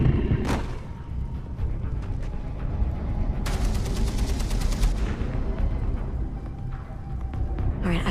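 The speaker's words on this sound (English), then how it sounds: "the real problem is going to be that mounted machine gun" A mounted machine gun fires in the game Beyond: Two Souls; one loud crack comes early, then a rapid burst rattles for about a second and a half amid steady low battle rumble.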